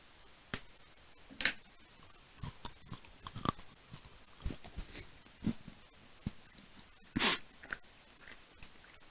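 Crunchy Milka chocolate being bitten and chewed, a series of sharp, close snaps and crunches spaced irregularly against a quiet background.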